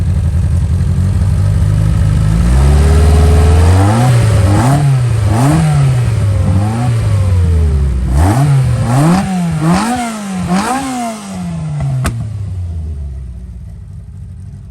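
A modified 998 A-series engine in a car revs hard: a loud, close idle rises into a series of repeated throttle blips, each climbing and falling in pitch, before settling back toward idle.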